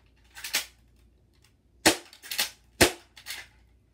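A BB gun fires at a shoe box, giving about six sharp, snappy cracks in uneven bursts, close and fairly quiet against a hushed background.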